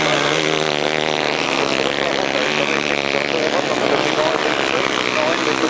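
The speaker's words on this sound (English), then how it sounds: "The only two-stroke engine in the field." A lone two-stroke motorcycle engine races on a 1995 grasstrack, a loud, sustained buzzing whine that holds steady the whole time while a commentator's voice runs over it.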